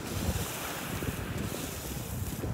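Strong wind buffeting the microphone on a beach, a constant heavy roar and rumble that fills the scene with surf blended in, loud and unbroken.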